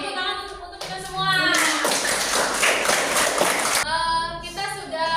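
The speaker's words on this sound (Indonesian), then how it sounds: "Tepuk tangan untuk kita semua." A classroom of students claps hands together for about two seconds, a loud dense burst between stretches of a voice talking before and after.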